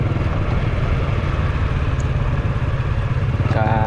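A motorcycle engine hums steadily and loudly up close as it rides through a small town in Salavan province, Laos, with a constant low drone and no talking.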